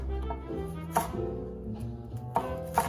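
Several separate knife chops through an onion on a cutting board, sharp taps spaced irregularly over a low kitchen hum, close by.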